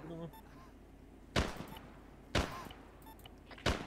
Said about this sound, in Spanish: Arma ligera, lo que me está disparando.